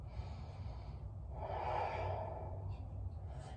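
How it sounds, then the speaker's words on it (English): Slow, deep inhales and exhales during a seated yoga twist using an Iyengar chair, a soft airy breath swelling in the middle, close and alone without talk. "Drop a little bit lower as you're twisting here for a few deep inhales and exhales."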